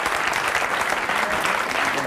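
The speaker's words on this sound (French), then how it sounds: "Bravo, on peut l'applaudir." Steady applause from an audience fills the whole moment, dense clapping at an even level with no pauses.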